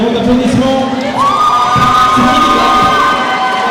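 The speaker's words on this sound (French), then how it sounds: "Allez, un grand applaudissement" Crowd cheering and whooping at a cosplay contest during a manga festival, loud and close, with shouting voices over scattered clapping and one long sustained whistle-like call.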